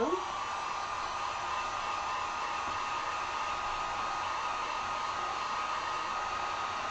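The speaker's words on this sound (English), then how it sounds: "So my heat gun is not an expensive heat gun." A cheap Harbor Freight heat gun blows on wet acrylic paint. It gives a steady, close, even hiss of rushing air from start to finish, with no speech over it.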